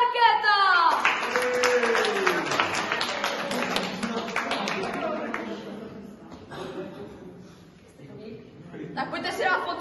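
A group claps for the winners of a hide-and-seek game played inside a school, a quick burst of applause that fades out under steady talking.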